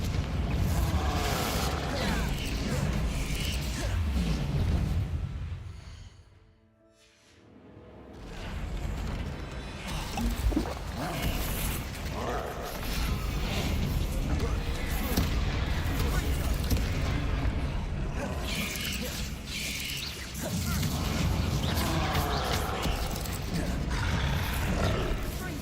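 Confringo fire spells blast a troll during Hogwarts Legacy combat: dense, roaring booms and rumbling impacts fill the scene, with a short lull early on, then the heavy barrage resumes.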